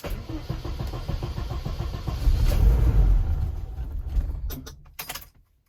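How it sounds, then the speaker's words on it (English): A car engine cranks, catches and runs briefly after an EFI rewire, loud and close, then cuts off abruptly near the end. "Ignition on, fuel pump's going, and neutral, handbrake on, cranking."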